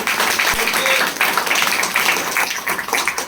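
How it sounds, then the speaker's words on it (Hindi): A crowd at a talk or gathering gives a loud, steady wash of applause, many hands blending into continuous noise that holds throughout without a break. "एक जोरदार ताली होनी चाहिए"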